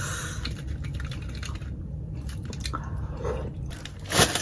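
Someone bites and chews a balut egg in the Middle East, giving close wet squishy mastication with soft crunchy bites and a sharper crunch near the end, no talking.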